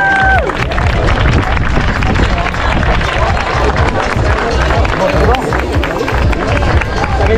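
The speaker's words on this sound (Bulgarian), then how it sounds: "Аплодисменти за Мария." Crowd at a 21 km marathon and duathlon awards ceremony applauding a women's third-place finisher, steady dense clapping and cheering mixed with loud crowd babble throughout.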